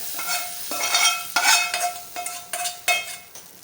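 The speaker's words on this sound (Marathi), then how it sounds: "हे असं सगळं मिक्स करायचं आहे" Fried tempering mixed into cooked cowpea and rice khichdi, rhythmic scraping and clacking of a spoon through the pot in quick repeated strokes, close and clear over a faint sizzle.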